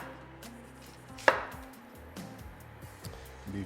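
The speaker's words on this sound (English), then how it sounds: "So I'm gonna slice up an onion into some rings so we can get some nice caramelized onions" A very sharp Dalstrong kitchen knife slices an onion into rings for caramelized onions. One crisp, close cut stands alone against otherwise quiet kitchen background.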